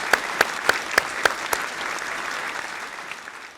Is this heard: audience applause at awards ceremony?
yes